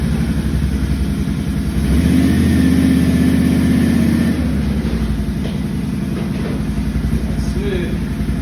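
A 2018 Can-Am Outlander XMR ATV pulls away from low RPM, its steady engine drone swelling briefly as it accelerates, then settling back into a low rumble with faint mechanical rattles throughout.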